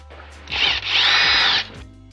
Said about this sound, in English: now we're going to break these 12 10mm bolts